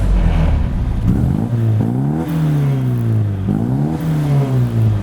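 A car engine revs through an aftermarket exhaust, close and loud, with a low rumble climbing in several smooth blips and falling back between them, no talk.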